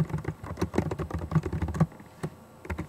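Rapid, uneven keystrokes on a computer keyboard while entering notes in Google Drive, close and clear, with a few short pauses between bursts.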